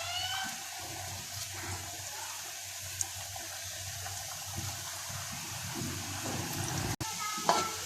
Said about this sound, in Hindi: अब हम इसको फ्राई कर लेते हैं